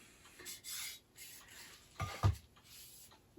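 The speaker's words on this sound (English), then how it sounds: "One last wipe over the top surfaces." A cloth damp with alcohol wipes over the top surfaces of black Featherweight sewing machines, producing quiet soft rubbing strokes in short bursts with a slightly louder swipe near the end, close and faint.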